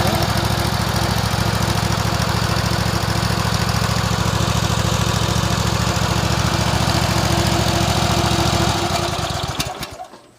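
Troy-Bilt lawn mower fitted with a replacement Harbor Freight engine and the mower's own exhaust, idling with a steady loud drone for several seconds before being shut off and sputtering to a stop.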